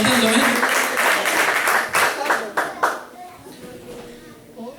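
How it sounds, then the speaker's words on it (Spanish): A church congregation gives applause for fellow members, a dense burst of clapping that breaks into a few scattered final claps and dies away, with voices talking over it. "Denle un aplauso al Señor por nuestro hermano Antonio"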